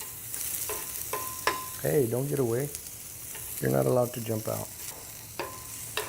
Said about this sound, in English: Ooh, I love that sizzle.